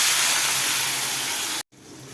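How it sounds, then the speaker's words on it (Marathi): Chopped tomatoes frying in hot oil with mustard seeds, cumin and asafoetida in a spinach dish, a steady loud hiss and sizzle that cuts out briefly near the end before resuming more softly. "टोमॅटो छान तेलामध्ये भाजून घ्या"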